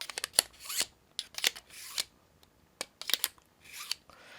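Short, bright metallic scraping strokes repeat irregularly, about eight quick rasps of scissors drawn across a Smith's Jiffy Pro knife and tool sharpener, fairly close and quiet.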